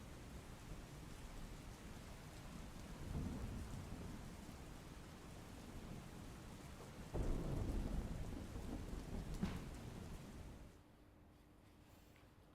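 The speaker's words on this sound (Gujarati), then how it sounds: "શહેરના મોટા ભાગના વિસ્તારોમાં ધોધમાર વરસાદ થયો" Heavy rain pours down steadily during a city downpour in Gujarat, with low thunder rumbling twice at a distance before the rain noise drops off near the end.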